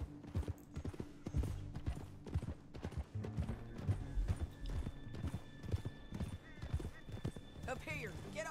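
Horse hooves clip-clop in a steady rhythm in Red Dead Redemption 2 beneath people talking, with a horse whinnying near the end.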